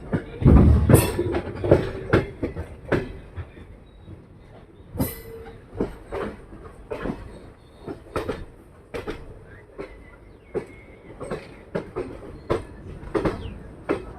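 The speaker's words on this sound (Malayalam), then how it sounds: "ഷൊർണൂർ ബി ക്യാബിൻ കഴിഞ്ഞ ഉടനെ തന്നെയുള്ള ഭാരതപ്പുഴക്ക് മുകളിലൂടെയാണ് നമ്മുടെ ട്രെയിൻ ഇപ്പോൾ അതാ പോയിക്കൊണ്ട് നിൽക്കുന്നത്" A passenger train crosses the bridge over the Bharathapuzha river just past Shoranur B cabin, with steady clickety-clack of wheels on rail joints, sharp metallic knocks and faint squeals, heard from on board.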